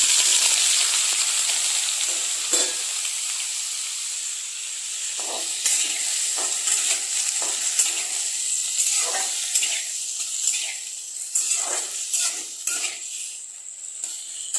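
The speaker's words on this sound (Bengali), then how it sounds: "সবার প্রথমে আমি দিয়ে দেবো এখানে 5 ফোড়ন, শুকনো লঙ্কা, কাঁচা লঙ্কা ছিঁড়ে দিয়ে দেবো।" Panch phoron with dried and torn green chillies, then potatoes, frying in hot oil over a gas flame: a loud, steady sizzling hiss that eases slightly, punctuated by irregular spatula scrapes and stirs.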